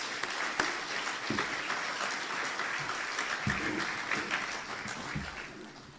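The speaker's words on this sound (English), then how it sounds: "I would ask that you give him really another round of applause" An audience at an engineering awards ceremony in Barbados applauds, a steady, even wash of many hands clapping that continues throughout.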